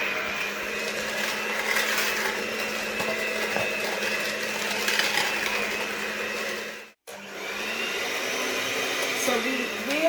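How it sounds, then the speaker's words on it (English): An electric mixer runs at a steady speed while it whisks waffle batter smooth, a continuous near whirring hum that cuts out briefly partway through and then resumes. "we will whisk this until all the mixture is completely smooth"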